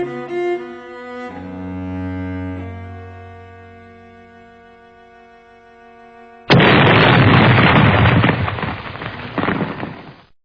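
Explosion sound effect: a sudden loud, broad blast bursts in after a sustained tonal musical build-up, then rumbles and crackles on for several seconds before fading.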